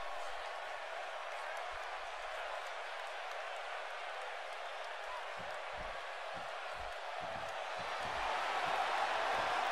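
Crowd at a Knockout Wrestling show cheering and clapping in a steady roar, with a commentator talking over it and the noise swelling near the end.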